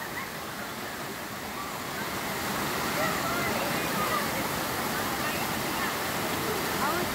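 Natural water rushes steadily at a waterfall and rock slide on Stone Mountain, a constant broad roar that grows slightly louder, with voices faintly mixed into the torrent.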